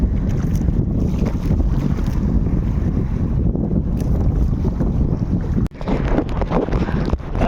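Strong monsoon wind buffets a fishing boat at sea, with a loud, steady roar of wind and water running throughout and one brief dip in level before the rough noise returns.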